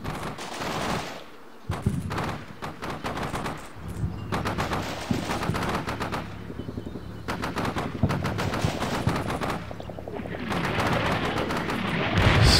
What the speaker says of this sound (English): So artillery's coming.